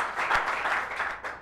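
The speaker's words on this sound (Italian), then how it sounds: "Facciamo un applauso per Andrea." Studio audience applause on an Italian television talk show, a dense, steady wash of clapping filling the short stretch at moderate level with no voices over it.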